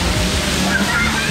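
At an outdoor water park pool, water sloshes and splashes loudly and close by, a continuous churning wash with a voice talking over it.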